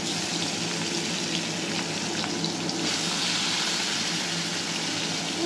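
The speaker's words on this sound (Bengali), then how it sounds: "ঠিক আছে, মাছগুলো ভেজে নিচ্ছি তাহলে।" Fish sizzles steadily in hot oil in an iron wok, a close, continuous hiss and crackle with no talking over it.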